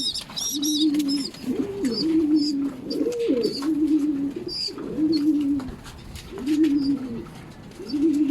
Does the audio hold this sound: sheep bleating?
no